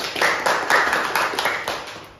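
A small group in a group activity therapy session claps for a participant, a few distinct rhythmic bursts of hand claps close by, fairly loud and fading slightly toward the end.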